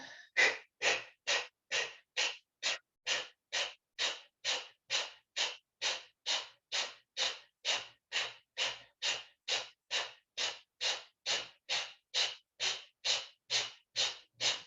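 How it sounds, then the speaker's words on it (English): Kapalbhati yoga breathing: a long run of about thirty forceful, sharp exhales through the mouth, evenly spaced at roughly two per second, close and moderately loud. "this is called Kapalbhati breathing"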